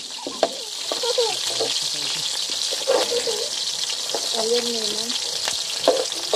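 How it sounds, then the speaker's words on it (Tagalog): Garlic and onion sauté in a pan, sizzling steadily up close while a spatula stirs and scrapes, with faint voices and kitchen noise around it. "Yan, igisa na natin yung ating bawang. Then, yung ating sibuyas."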